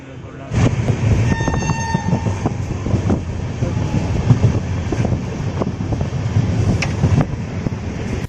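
A train at Veraval railway station in Gujarat gives a steady, loud rumble of rail noise throughout, with wind buffeting the microphone and brief tonal squeals or a distant horn near the start.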